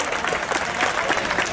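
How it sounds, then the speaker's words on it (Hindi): Loud, dense applause from a large crowd at an outdoor mass wedding ceremony on a polo ground, sustained and steady throughout with a faint murmur of voices beneath. "जोरदार तालियां"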